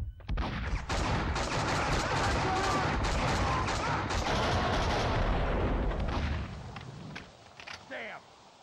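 Heavy gunfire and explosions crash in close succession, loud booms and rapid shots overlapping for about six seconds before dropping away into quieter rumbling, with a shouted voice among the blasts.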